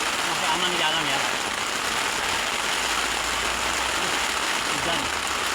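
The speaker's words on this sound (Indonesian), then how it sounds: "ini yang terdahsyat hujannya selama saya camping ya." Heavy rain pouring down on a riverside camp, a dense, continuous hiss of rain drumming on the shelter, with a person speaking faintly underneath.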